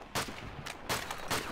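Gunfire sounds from the video game Call of Duty 2: four sharp shots, spaced irregularly and fairly loud, over a low noisy game background with no talk.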